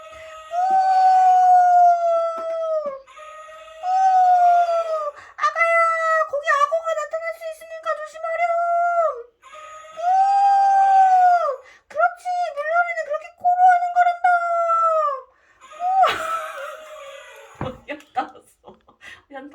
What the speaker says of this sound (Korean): 그때 아빠 코끼리가 우렁찬 소리로 아기 코끼리를 불러요.